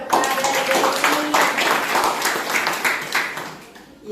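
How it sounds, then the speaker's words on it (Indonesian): A classroom group applauds a student's presentation with dense, steady clapping that lasts several seconds. The sound is moderately close and fades slightly toward the end. "Iya, kasih tepuk tangan kepada Desi."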